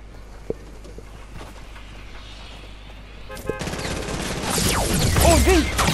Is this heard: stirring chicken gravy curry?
no